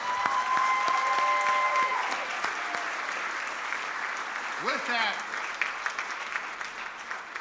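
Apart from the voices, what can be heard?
audience applause at awards ceremony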